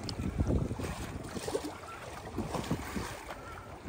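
Steady wind blows outdoors over open water, with low gusty rumble against the microphone and a faint wash of waves, moderately loud and continuous without speech.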